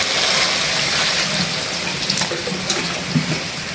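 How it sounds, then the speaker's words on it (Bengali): Water poured from a tap into a pan of rohu and tilapia fish curry with eggplant, a steady, loud rushing stream running throughout with faint clatter near the end. "একটু ঝোলের পানি দিয়ে দেব"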